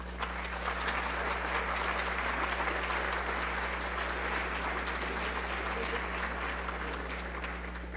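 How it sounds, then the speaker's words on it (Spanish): Warm, steady applause from an audience at a Dominican family gathering, dense and even for several seconds, over a low constant hum from the hall's sound system. "Recibámoslos con un fuerte aplauso."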